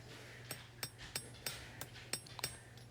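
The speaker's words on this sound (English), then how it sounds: "Start at the heel of the blade and forge in that bevel." Sharp, ringing hammer blows on steel while forging the bevel of a Bowie knife blade, about ten strikes in an uneven rhythm over a low steady hum, fairly faint and close.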